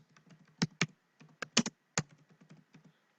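Keys clack on a computer keyboard as someone types a short search query, a quick irregular patter of light taps with a few louder strikes, close and clear with no talking.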